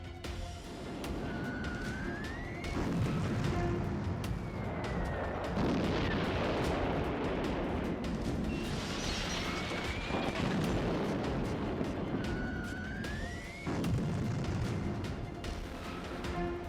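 Booming, rumbling blasts from explosions in Kyiv roll out among rising and falling siren wails and a steady background roar, the bursts dull and spread out over more than fifteen seconds.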